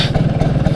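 A motorcycle engine catches and runs loud and close in a brief, throbbing burst with a fast, even pulse, heard alone.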